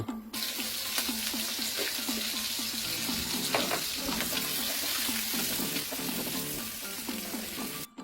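Adobo frying in oil inside a covered pan, a steady close sizzle and crackle with bubbling spatter running throughout, no voices.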